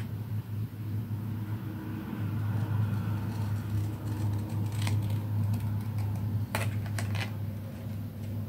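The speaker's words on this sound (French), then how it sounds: "je vais prendre moi mon ciseau, je coupe" Scissors cutting along lines on paper card for a handmade greeting card, with a few crisp snips near the end over a steady low hum and light background clatter, close and quiet with no talking.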